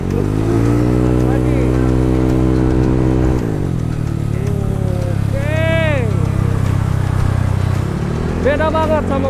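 A Honda ADV 150 scooter, bored up to 180cc, revs hard on a busy road: a loud, close engine drone climbs in pitch, then drops off and surges again in rising whines, with brief speech over it.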